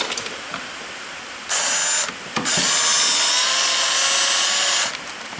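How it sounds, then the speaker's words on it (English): A cordless screwdriver whirs in two loud, steady bursts, a short one followed by a longer three-second run, close by with quiet pauses around them. "basically a cordless screwdriver. So yes, I am using it."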